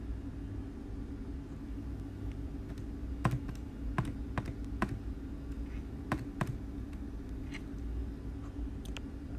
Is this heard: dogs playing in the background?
no